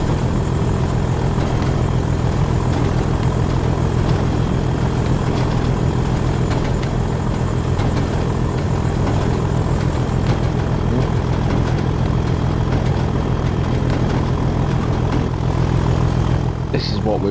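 A train engine in Train Sim World, driven under throttle on the Tees Valley Line, holds a loud, steady low drone with a constant mechanical hum that runs unbroken throughout.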